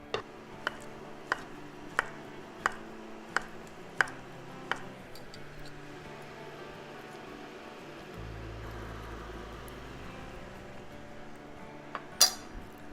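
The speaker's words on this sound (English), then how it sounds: "I'm going to just slice those up." A knife slicing cooked carrots for homemade chicken noodle soup, with a run of sharp, evenly spaced taps on a board over the first five seconds, a quieter stretch after, then one louder clink near the end.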